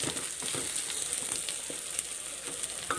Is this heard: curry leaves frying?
yes